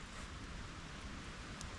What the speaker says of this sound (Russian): В принципе, дождь уже идет